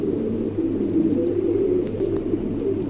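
A pair of large Shoking pigeons coo in a low, continuous murmur that holds steady and moderately loud from start to end, with no voices.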